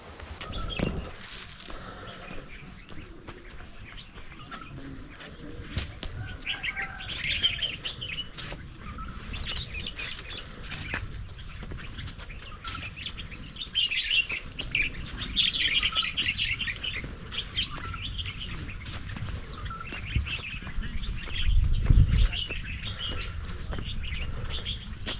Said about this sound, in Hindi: चारों तरफ खामोशी और परिंदों की भी आवाज़ें हैं